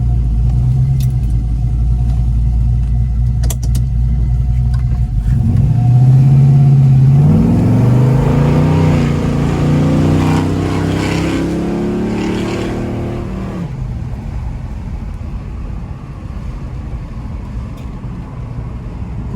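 A 1970 Chevelle pro touring car with an LS engine idles with a steady low rumble, then swells and shifts while reversing, the engine note rising and wavering for several seconds before settling back to a smooth idle.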